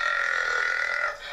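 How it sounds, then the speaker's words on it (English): A long, loud, sustained burp rolls out alone for over a second, steady and strong before tapering off at the end, part of a Friday morning burping session. "Friday morning burping sessions"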